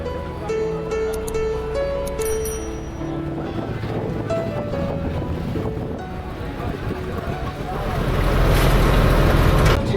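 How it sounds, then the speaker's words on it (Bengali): A passenger launch pulls away from a riverside jetty at Gadkhali in the Sundarbans, with a steady engine drone, water wash and wind buffeting the microphone throughout. A higher tonal sound comes in early, and the rush of water and wind swells near the end. "আমাদের লঞ্চ ছাড়লো গদখালি থেকে। খুব সুন্দর একটি লঞ্চ।"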